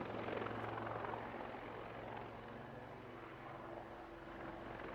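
A helicopter performs a climbing turn and wing-over repositioning during a flying display at the Bournemouth Air Festival. Its steady rotor drone stays continuous and fairly loud for the whole stretch, with no speech over it.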